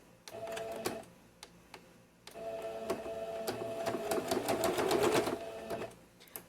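A sewing machine stitches a zipper pouch, starting with a few isolated clicks and then running in a continuous fast whirring chatter for several seconds before stopping, close by and without talk.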